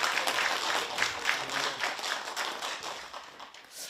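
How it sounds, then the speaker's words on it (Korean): A small audience at a community cultural program for seniors claps for a guest, scattered individual claps with a loose rhythm, moderately loud and thinning out toward the end, with no talk over it. "박수 부탁드립니다."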